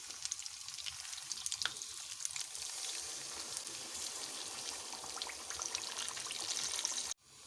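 Chicken pieces fry in a pan with yogurt paste just added for achar gosht, giving a steady, dense sizzle and crackle throughout, close and fairly loud, cutting off abruptly at the very end.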